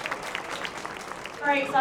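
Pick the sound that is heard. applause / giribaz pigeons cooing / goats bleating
applause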